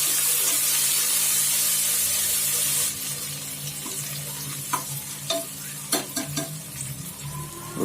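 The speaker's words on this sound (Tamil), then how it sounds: "புதினாவும் கொத்தமல்லியும் நல்லா வதங்கணும்." Mint and coriander leaves sautéing in a pressure cooker, with a bright, steady sizzle for the first few seconds, then quieter frying with scattered stirring clicks and scrapes close by.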